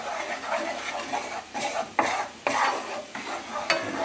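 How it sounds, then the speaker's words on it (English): Butter being stirred into flour in a hot pan gives a steady sizzle broken by several sharp scraping strokes of a spoon against the pan, close and fairly loud, with no voices. "Stir in some butter with this flour."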